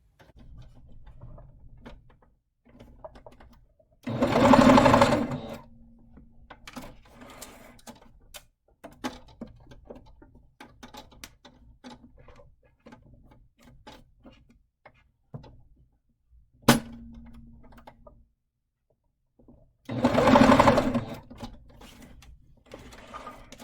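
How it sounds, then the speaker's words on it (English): A sewing machine stitches across elastic on a fabric face mask in two loud, steady bursts of rapid whirring, separated by quiet handling of the fabric and small clicks. "I like to sew across here to secure that elastic, sew across here, and then I'm gonna do a different stitch to secure the edge down here."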